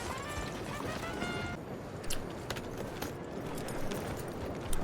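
Horse hooves in the Red Dead Redemption 2 video game clop in a steady running rhythm, close and fairly loud over a dense game soundscape, with a few sharper thuds standing out.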